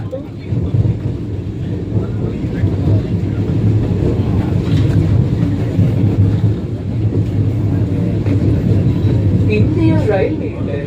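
Vande Bharat Express, the Nagercoil service between Villupuram and Madurai, rumbles steadily along the main line near Dindigul, heard from inside as a continuous low roar with faint clatter throughout.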